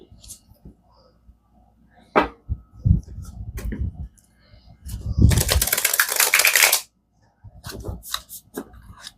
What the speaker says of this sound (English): I'm going to give one or two more shuffles here now that I made some room.